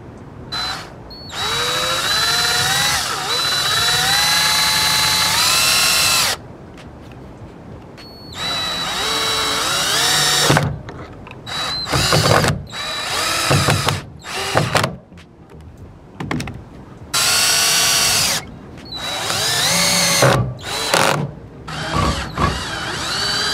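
A power drill drives screws into a metal bracket in repeated bursts, loud whining spins rising in pitch, broken by short pauses and quick stop-start pulses.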